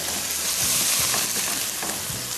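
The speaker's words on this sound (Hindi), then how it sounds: "अदरक लहसुन शामिल किया टू स्टार्ट विथ, साथ में हल्का सा इसको किया फ्राई" Ginger and garlic frying in a pan as a start to beef qeema, giving a steady close sizzle with a few soft stirring scrapes, no voices.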